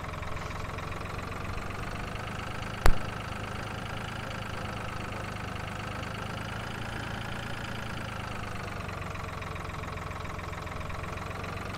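Tractor engine running steadily while plowing fields, a continuous even drone with no talk, broken once by a single sharp click partway through.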